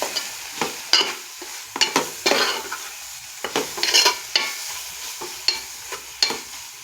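Brinjal and dried prawn curry is stirred with chili powder and turmeric in a hot pan: repeated close scraping strokes in an uneven rhythm over a steady sizzle of frying.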